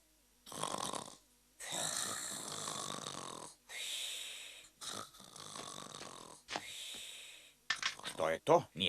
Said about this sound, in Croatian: I kakvo je to čudno hrkanje?